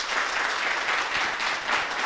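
Audience applauding steadily at a youth talk event in Koumassi, a dense, sustained burst of clapping from a crowd, loud and close, with no voices over it.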